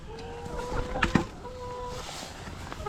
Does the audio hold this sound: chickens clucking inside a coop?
yes